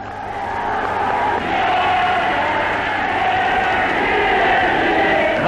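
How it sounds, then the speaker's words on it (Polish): A large crowd at a 1956 Polish political rally shouts and roars continuously around a speakers' platform. The dense, loud din of many voices rises slightly toward the end. "Tłum ciasno oblega trybunę."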